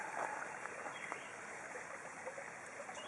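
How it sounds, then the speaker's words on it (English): Water running from a hose into a koi pond hydroponics filter setup gives a soft, continuous trickle and rush, steady and faint throughout. "There's a nice flow of water."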